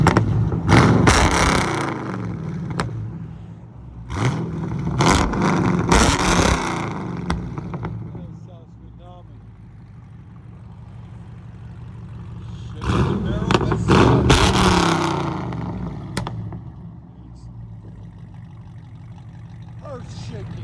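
A straight-piped Chevy Camaro SS fitted with long tube headers revs loudly up close, several rising throttle blips and deep rumbling surges over a burbling idle, with voices talking over parts of it.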